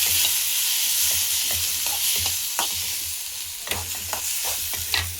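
Garlic, coconut and pepper fry in a pan with a steady close sizzle, broken by repeated scraping and stirring taps of a spoon against the metal.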